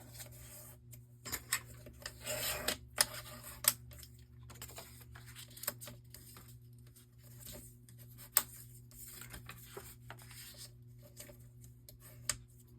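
Paper being burnished flat for a scrapbook album folio, heard as soft close rubbing and scraping strokes with light taps and pauses between them in a quiet room.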